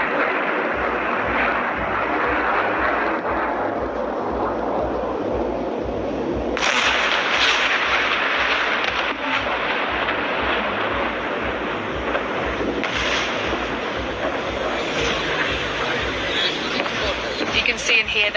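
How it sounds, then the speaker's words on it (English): Iranian missiles intercepted by air defense high in the sky over Tel Aviv, heard as distant booms and sharp bursts within a constant heavy wind-like roar. "You can see and hear there the sound and the sight of those Iranian missiles being intercepted in the sky high above Israel by its air defense systems"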